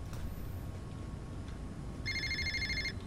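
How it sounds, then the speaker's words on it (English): A telephone rings inside a video game, one electronic trill lasting about a second against a steady background hum of game ambience, with no speech. "we made it in time just for a phone call"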